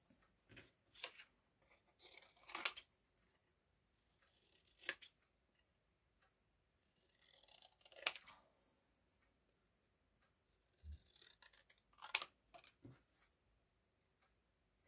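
Scissors cutting paper Christmas pictures decorated with holly, heard as short, quiet clusters of crisp snips separated by pauses, with no talking.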